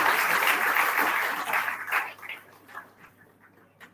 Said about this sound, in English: I request the audience to give each of these team members a huge round of applause.